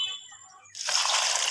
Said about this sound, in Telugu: వాటర్ పోసి వీటిని కూడా శుభ్రంగా కడుక్కుందాం.